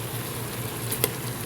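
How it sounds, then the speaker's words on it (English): Garlic and onions fry in hot olive oil with a steady, close sizzle and crackle, punctuated by a single brief clink near the end and no voices. "I added the garlic with the onions, and I have the olive oil boiling"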